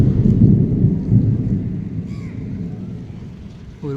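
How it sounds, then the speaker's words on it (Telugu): Deep thunder rumbles and rolls through a heavy rainstorm over a pigeon loft, with steady rain hiss underneath and a brief high chirp near the end. "ఉరుముల సౌండ్ మీకు కూడా వినిపిస్తున్నట్టు ఉంది."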